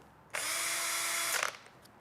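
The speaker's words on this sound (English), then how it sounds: "let the power of the drill do the scrubbing for you" A power drill whirs steadily for about a second, spinning a scrub brush for car detailing, then winds down, close and loud with no talking.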